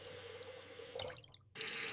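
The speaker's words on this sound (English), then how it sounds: "I turn on the water." Water running steadily from a tap at a sink, a continuous hiss that briefly breaks off and then resumes strongly, with no talking.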